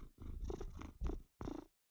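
A cat purrs right up against a microphone, loud, close rumbling bursts in three or four rhythmic breaths, each swelling and fading with brief gaps between.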